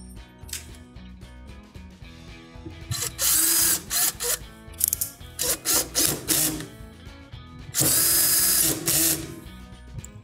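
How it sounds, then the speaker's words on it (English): Power drill driving screws to fasten parts of a Viking cooktop burner, heard in several short loud whirring bursts separated by quieter gaps, with a longer burst near the end. "And then we'll finish fastening them with the drill."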